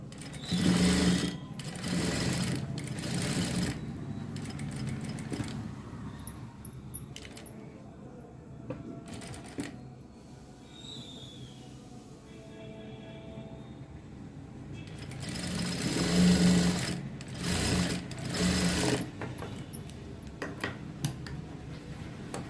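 A sewing machine stitching a blouse runs in loud rapid bursts near the start and again later, with quieter gaps of faint clicking and handling between runs.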